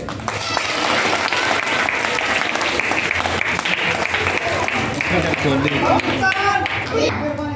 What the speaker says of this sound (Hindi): जादू देखो, जोर से ताली बजाओ, जोर से